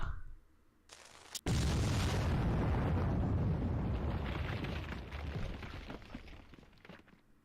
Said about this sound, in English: We're all just watching this explosion, waiting for it to happen.